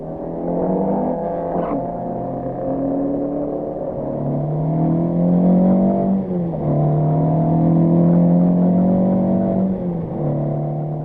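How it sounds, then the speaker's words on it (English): Rally cars of the 1971 Rally de Portugal heading out into the Portuguese countryside, several engines droning and revving steadily close by, with rising and falling pitch as gears change and no voices heard. "And so the rally moves out into the Portuguese countryside, and away towards the first of the special stages"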